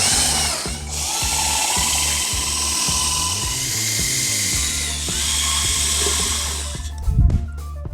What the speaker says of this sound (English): we want to secure the rail section to the clips with our 3/4 inch Tech screws, top and bottom, both sides